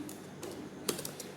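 Keys clatter on a computer keyboard as code is typed, a few quiet scattered keystrokes with one sharper tap near the middle, close and soft over a low room hum.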